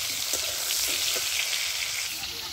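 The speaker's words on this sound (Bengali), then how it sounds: "চিংড়ি মাছটা বেশি ভাজবো না, হালকা করে ভেজে আমি তুলে নেব।" Shrimp fry lightly in hot oil, giving a steady soft sizzle that runs without a break from start to finish. No one speaks over the sizzle.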